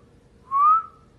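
A person whistles a single clear rising note lasting under half a second, alone and fairly close, set against a quiet indoor background.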